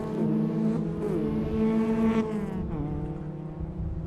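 Race cars on a drizzly circuit during a round of the ICCR 2024 series, engines droning steadily and rising in pitch as the cars battle closely out of a bend, loud and continuous throughout.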